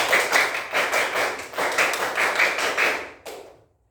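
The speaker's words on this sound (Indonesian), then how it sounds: "Tepuk pramuka" Children in a class perform the scout clap, a rhythmic group clapping pattern with pulsing beats from many hands in unison, ending with one final clap.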